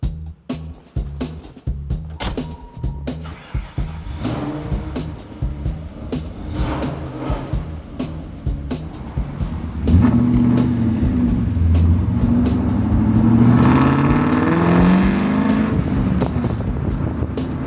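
A 1959 Ford Country Sedan station wagon driving, engine humming low and building in pitch as it accelerates, growing louder and fuller in the second half, heard from inside the car with no talking.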